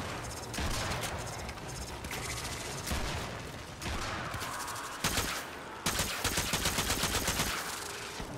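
Video game gunfire rattles in bursts, with sustained automatic fire broken by short pauses and ending in a rapid string of distinct, evenly spaced shots, loud and close.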